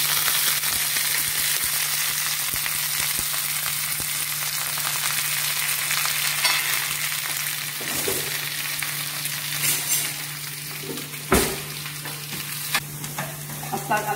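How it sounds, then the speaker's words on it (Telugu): Onion, green chilli and curry leaves sizzling in hot oil in a pan while preparing a bitter gourd dish, a steady close frying hiss with occasional stirring scrapes and clinks of a spoon, no talking. "డైరెక్ట్గా ఉల్లిపాయ పచ్చిమిర్చిని కరివేపాకు మొత్తం వేసేస్తున్నాను"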